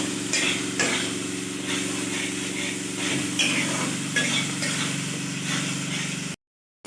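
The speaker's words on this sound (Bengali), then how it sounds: "মশলাটা আমি কষিয়ে নেব।" Spice paste sautés in a pan with a steady sizzle and occasional stirring scrapes, over a constant low hum, ending abruptly in silence.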